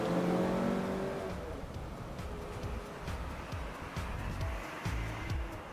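Buick Envision 2017 with a 2-liter turbocharged engine accelerating, a steady broadband engine roar with rising harmonic tones at the start, continuous and fairly close, with no talking.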